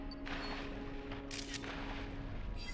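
Clawitzer Pokémon fire shots on the Lental Seafloor in New Pokémon Snap, a few sharp bursts over a steady underwater hum and game music, moderately loud.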